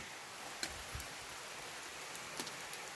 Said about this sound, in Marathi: आत्ता पण पाऊस बाहेर आहे थोडंसं